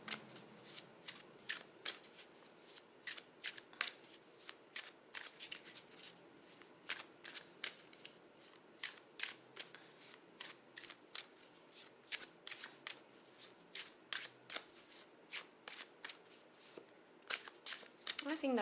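Tarot cards are shuffled repeatedly in the hands, a steady series of crisp riffling and flicking bursts close to the microphone over nearly twenty seconds, with a quiet voice speaking during the shuffling.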